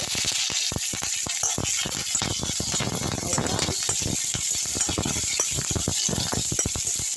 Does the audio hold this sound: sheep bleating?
no